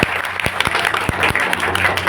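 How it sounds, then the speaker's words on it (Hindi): An audience at a Pahari-language class function bursts into sustained, close applause, a steady wash of many hands clapping with a few sharper individual claps standing out. "उनके लिए एक बार जोरदार ताली दें"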